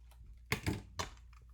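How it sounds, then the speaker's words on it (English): Scissors cut through paper for a scrapbooking class project in a quiet room: two or three short, crisp snips, close but faint, with no talking. "I'm gonna have to cut this with scissors"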